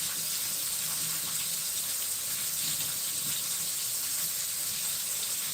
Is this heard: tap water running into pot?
yes